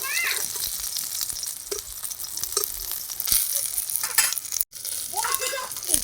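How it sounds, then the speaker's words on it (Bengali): Rohu fish wrapped in pumpkin leaves fries slowly in a pan, a continuous close sizzle with occasional stirring taps and a faint voice in the background. "ঢেকে ঢেকে আস্তে আস্তে ভাজতে হবে"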